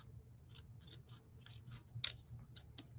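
Scissors snipping through material for a repurposed canning jar craft, a steady series of close, quiet crisp cuts over a faint low background hum, with no voices.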